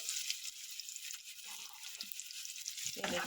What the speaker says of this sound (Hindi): अभी मैं इसमें ऑनियंस ऐड कर दूंगी। ऑनियंस को थोड़ा ब्राउन कर दूंगी।